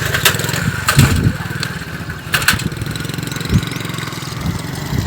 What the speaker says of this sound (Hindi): दोनों भाई मोटरसाइकिल बहनों से क्रॉस करा रहे हैं